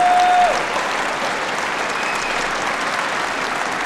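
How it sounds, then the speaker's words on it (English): Warm applause from the crowd at the Palais des Sports in Orléans after a women's singles semifinal badminton match at the 2014 French International, a steady, dense clapping that holds evenly throughout. "Warm round of applause from the appreciative crowd here in Palais des Sports in Orléans."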